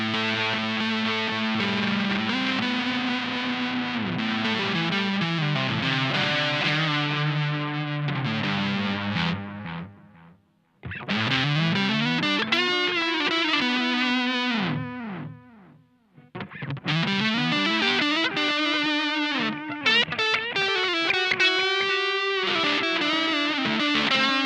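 An electric guitar runs through a Mad Professor Golden Cello pedal combining distortion and delay, giving a dark, bluesy overdriven tone. Sustained bent notes and phrases trail off into echoing tails, broken by two short pauses and with no voices.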